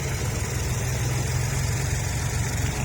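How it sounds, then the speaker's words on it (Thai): A three-cylinder diesel tractor engine idles close by with a steady, low, chugging rumble, unchanging throughout. "อันนี้เป็นเครื่องยนต์สามสูบนะครับ"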